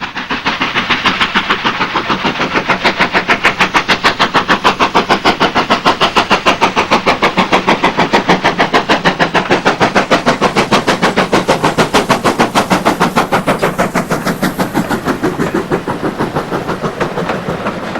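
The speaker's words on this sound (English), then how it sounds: "Kinlet Hall, taking a break from mainline action on the West Somerset, appears from the trees at Trebles Holford in March 2005." Steam locomotive Kinlet Hall working hard on a heritage line in woodland, a loud, rapid, regular exhaust beat that builds and holds close by before easing slightly.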